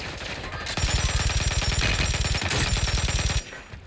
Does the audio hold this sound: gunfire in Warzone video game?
yes